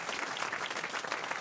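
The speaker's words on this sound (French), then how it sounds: "Allez, on vous applaudit, Yves Michel." Studio audience at a French radio comedy show breaks into a burst of applause, a thick, continuous wash of clapping that stays loud and even for its brief length.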